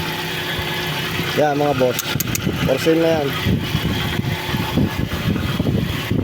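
A quiet vehicle engine idling steadily with a low, even hum, while someone talks over it throughout.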